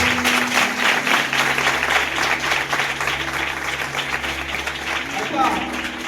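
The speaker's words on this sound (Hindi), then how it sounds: "इसलिए ताली बजा के परमेश्वर धन्यवाद" A church congregation at a New Year service claps steadily in thanks to God, a dense rhythmic patter of many hands heard under a preacher's voice.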